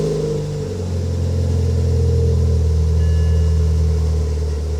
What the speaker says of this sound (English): Okay, so let's now start the car.